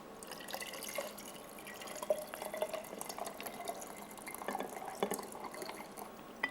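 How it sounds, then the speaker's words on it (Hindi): Sharbat poured over ice in a glass, a faint, steady trickle of liquid with small splashy drips and light clinks close by, quiet throughout with no speech. "बर्फ़ के ऊपर हमने डालना है ये शरबत"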